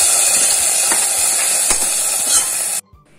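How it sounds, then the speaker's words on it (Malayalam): Loud, steady sizzle and crackle of hot tempering with shallots and curry leaves poured into coconut sambar, close and continuous, then cutting off abruptly. "താളിച്ചത് കറിയിലേക്ക് ഒഴിച്ചു കൊടുക്കാം"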